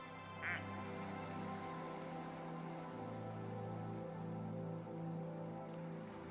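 Plastic-looking ducks quack in Placid Plastic Duck Simulator, a single faint quack early on over a steady wash of water and ambient game music.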